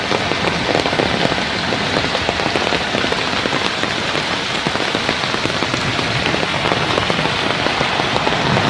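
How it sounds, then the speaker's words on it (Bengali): Heavy storm rain pours down in a dense, steady, loud roar, with constant drops hammering surfaces throughout and no voices. "দেখেন বৃষ্টির অবস্থা, কি অবস্থা"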